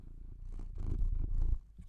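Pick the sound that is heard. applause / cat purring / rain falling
cat purring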